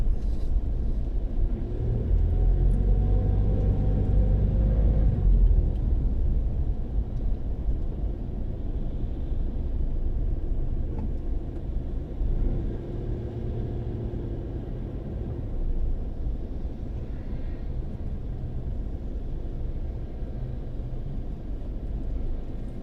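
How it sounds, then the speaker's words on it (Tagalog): Morning traffic jam on a Metro Manila road, with a low continuous rumble of idling and slowly moving vehicles, a heavier engine swelling up nearby early on and fading, and no talk. "tukod ang trapiko umagang umaga."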